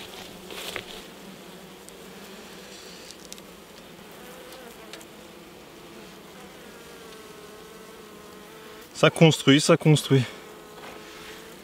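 Honey bees in an apiary hum faintly and steadily in the background, a soft continuous drone under a brief spoken remark, with a sudden loud burst of several sharp buzzing pulses near the end.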